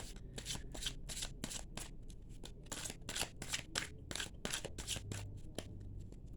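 Tarot of Dreams cards riffled and shuffled by hand close up, a steady run of crisp papery riffles and flicks with brief pauses, and no one speaking.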